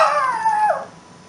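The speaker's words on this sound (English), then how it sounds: "Bella's barking" A pet dog named Bella gives a single drawn-out howling bark, close and fairly loud, fading after under a second, near a yard where an empress tree is being treated.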